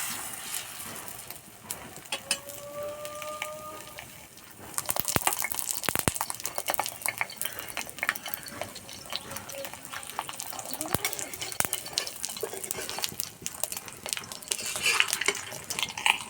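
A roti roll dipped in beaten egg sizzles in oil on a griddle (chatu): quiet at first with a brief tonal squeak, then a loud, crackling frying hiss with sharp pops continuing steadily to the end, no talking.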